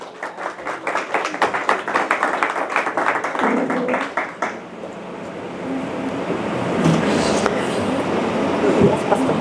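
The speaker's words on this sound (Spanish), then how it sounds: "vamos a darle un fuerte aplauso" A church group gives a strong round of applause, a burst of rhythmic hand claps for several seconds that gives way to a washy murmur of crowd noise.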